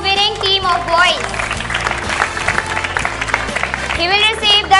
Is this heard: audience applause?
yes